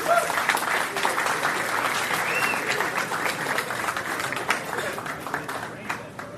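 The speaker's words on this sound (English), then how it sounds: "a big round of applause, first of all, for everyone who helped with the water cleanup" A round of audience applause at a magicians' get-together, dense and sustained, gradually thinning toward the end, with voices faintly underneath.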